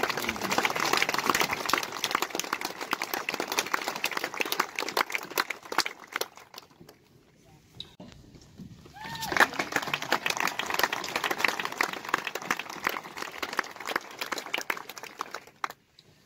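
Audience at a high school graduation ceremony claps for the valedictorian, a long wash of applause that dips briefly to near quiet before swelling again and fading.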